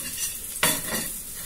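Garlic and onion sautéing in olive oil, a soft sizzle broken by one sharp clatter of a utensil stirring the pan, then a brief swell of frying before it settles back.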